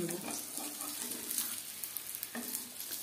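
Bengali rolls fry in a pan over high to medium flame, a soft continuous sizzle with light crackles and an occasional scrape, fairly quiet and steady.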